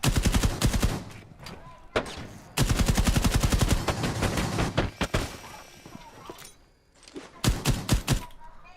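Rapid video game gunfire rattles in dense, loud automatic bursts, then breaks off and returns in short clusters of shots near the end.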